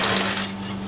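A sewing machine stitches a smocked, shirred dress with elastic, giving a steady, close mechanical hum that runs without a break through a brief stretch, with no talking.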